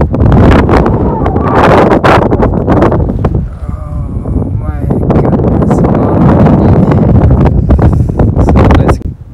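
Strong wind buffeting at a high mountain pass on a trek, loud gusty roaring and microphone rumble in bursts, briefly easing midway before surging again.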